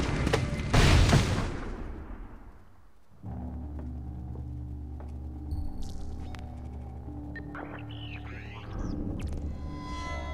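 A grenade blast in the video game Splinter Cell Blacklist: a loud, close explosion that decays over a couple of seconds, then gives way to low droning game tones, faint sharp pops and electronic chirps.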